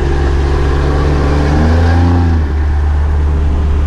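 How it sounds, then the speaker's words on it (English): A Cummins diesel truck engine revving hard while rolling coal on the move, a loud continuous roar that climbs in pitch near the middle, dips briefly, then settles back into a steady drone under wind. "that is how I roll coal while driving"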